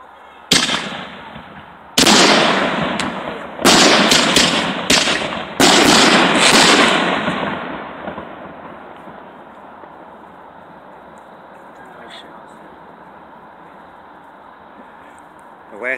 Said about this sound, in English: This is a 25 shot rack. This is gonna be nice.